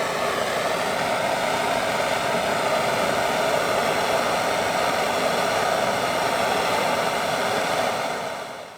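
A stainless steel clamp being heat-burned with a torch, giving a steady, loud roaring hiss that holds evenly for about eight seconds before trailing off at the end.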